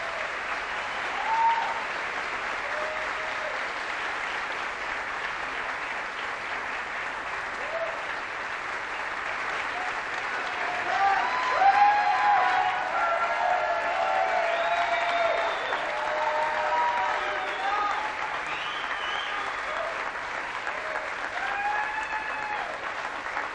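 Sustained audience applause fills a music theatre awards ceremony, a steady wash of clapping from a large crowd that swells briefly midway, with faint voices beneath.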